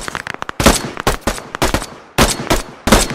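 Rapid automatic gunfire in a PMC shooter firefight: loud, close bursts of shots in several clusters with short gaps between, cracking sharply over the action with no talk.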